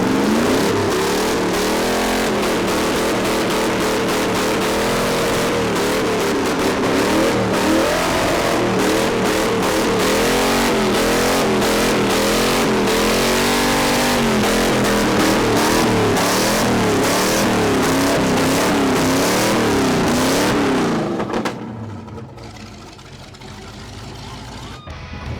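A race car engine, freshly swapped in, roars loudly and continuously nearby with rising and falling revs over about twenty seconds before dropping to a rough idle at the end.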